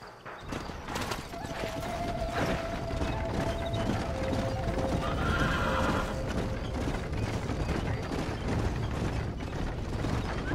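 Horses whinny and hooves clop amid a dense, steady wash of Red Dead Redemption game sound effects and rumbling, with brief tonal calls early on.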